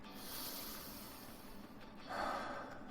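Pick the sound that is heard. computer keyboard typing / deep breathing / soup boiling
deep breathing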